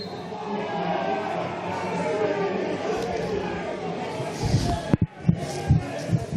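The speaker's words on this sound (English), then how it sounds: "So the Northcote crowd not too happy there." Northcote City supporters at a football match grumbling and calling out in displeasure, a murmuring crowd with a few louder shouts near the end, under a commentator's voice.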